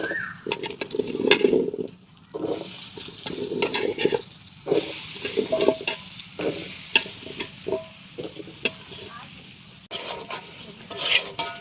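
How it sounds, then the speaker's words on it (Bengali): Cut potatoes fry in hot oil for beef bhuna, sizzling loudly with repeated scraping stirs and clatter in an uneven rhythm, close by. "সেই জন্য আগে আলুটাকে সুন্দর করে একটু ভেজে নেব।"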